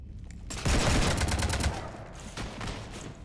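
A rapid burst of gunfire strafes a ship in the Mass Effect 3 video game, loud and dense at first, then trailing into scattered shots and rumble.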